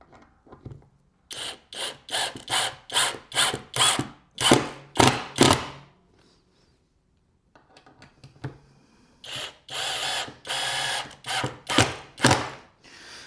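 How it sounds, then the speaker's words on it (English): Screws driven by a power drill into a wooden toilet paper holder, two close runs of short rhythmic whirring, grinding pulses separated by a quiet pause. "So I'm just gonna lightly drive these in, make sure they're below the surface."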